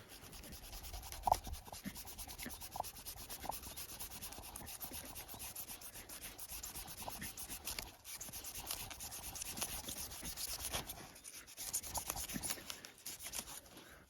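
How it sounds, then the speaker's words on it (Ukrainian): A CJRB Bolt folding knife with a powder-steel blade sawing through tough rope, a continuous close scratchy rasp of fibres being worked with small catches and scrapes. "Канат прямо дуже погано якось ріже."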